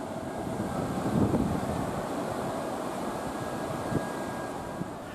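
Strong wind and rough sea waves on the Arafura Sea off Merauke, Papua, make a continuous loud rushing roar with gusty buffeting and occasional surges, and no voices.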